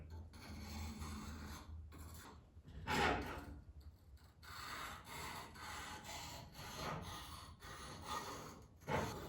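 A blade is stroked across the fine side of a sharpening stone, repeated rasping passes in an uneven rhythm with short pauses between strokes, close up and moderately quiet, no talk.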